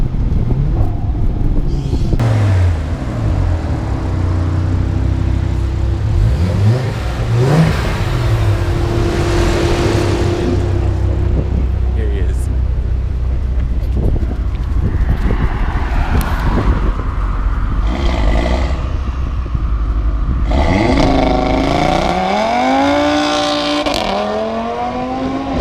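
A car with an RS3 engine swap, a built motor and a small turbo accelerates loudly with a deep rumbling drone that rises in pitch through repeated pulls, close and continuous with no talk.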